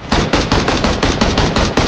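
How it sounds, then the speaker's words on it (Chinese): Rapid automatic M762 rifle fire in the Peace Elite shooter game, a loud close burst of about nine evenly spaced shots with no talking. "鲨鱼 M762 当即出枪扫射，枪枪命中依旧没能放倒一人"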